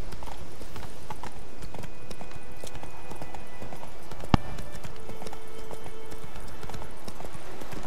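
Horse hooves clip-clopping in a steady trotting rhythm while riding through The Witcher 3: Wild Hunt, close and continuous, with a single sharp click partway through.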